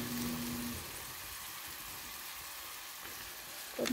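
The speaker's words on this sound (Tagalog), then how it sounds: "Kaya ginulayan natin yung sardinas." Sardines sautéed with vegetables and a dash of soy sauce in a pan give off a steady, close sizzling hiss that holds throughout, with no talking.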